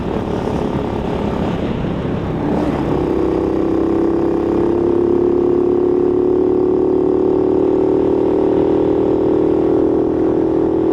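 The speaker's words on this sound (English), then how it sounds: "I don't know why it suddenly started bogging down." A Honda C90 motorcycle engine bogging down while riding, a loud continuous drone that roughens and dips after a few seconds, then settles into a steady lower strained hum.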